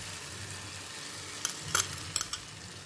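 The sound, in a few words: beaten eggs frying with tomato and onion masala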